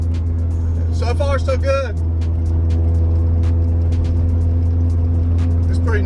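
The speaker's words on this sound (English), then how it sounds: "it's kind of loud because it doesn't have a muffler" 1999 Acura Integra with no muffler cruising along, a loud steady low engine drone heard from inside the car, with someone speaking briefly over it.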